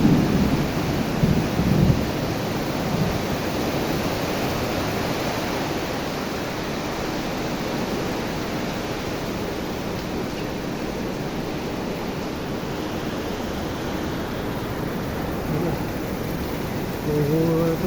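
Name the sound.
heavy rain with thunder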